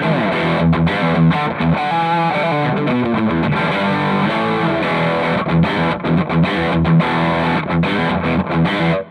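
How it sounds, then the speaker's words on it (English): Heavily distorted electric guitar on the bridge pickup through an amp's heavy overdrive channel chugs and rings steadily and loud, a crunchy overdriven tone playing continuously with no voices. "engage the heavy overdrive channel right now on the bridge pickup"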